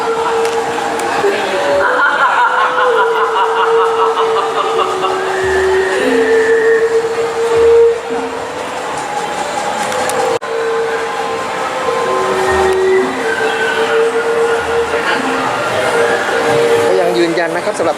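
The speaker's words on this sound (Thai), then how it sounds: "มีโมเดรถไฟนะครับสำหรับการโชว์นะฮะ" A display model train runs steadily with a rolling rail hum and faint whistle-like tones, under continuous talk and a busy indoor market crowd at the Makkasan railway factory in Bangkok.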